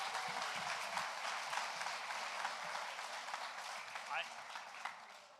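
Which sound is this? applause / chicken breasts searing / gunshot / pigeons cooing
applause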